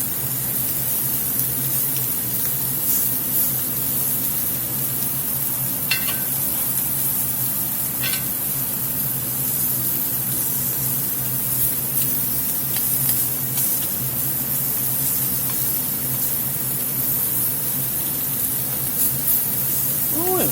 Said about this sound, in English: I'm gonna go ahead and lay these little old shrimps in here.